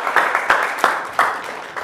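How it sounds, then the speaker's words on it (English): An audience at a Questacon science show claps for a volunteer walking on stage: a thin, steady patter of hands, with a few sharper claps popping out at irregular moments. "give him a big round of applause as he makes his way on stage"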